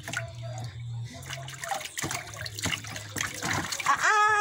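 Water sloshes and drips in a tub of cool water as a baby is washed, with irregular splashes and trickles, a low background hum, and a brief higher voice sound near the end.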